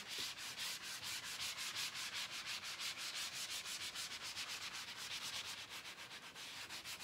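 A furniture transfer is lightly sanded by hand, producing a steady rhythmic back-and-forth rubbing with regular strokes, faint but close and without talk.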